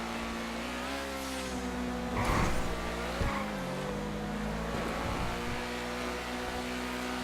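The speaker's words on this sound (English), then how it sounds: "Bryce is definitely taking advantage of the speed that the Feltzer has." A Feltzer sports car races in Grand Theft Auto, its engine droning steadily and shifting in pitch, with bursts of tire squeal and skidding partway through, all at a fairly quiet level.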